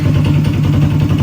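A car engine runs steadily just after an engine swap, a loud, close idle with a throbbing low rumble and a regular pulsing rhythm throughout.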